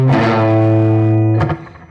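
An electric guitar chord sustains loud and clear through a Strymon Deco tape delay pedal set for slapback echo, then it is cut off and a short picked burst follows.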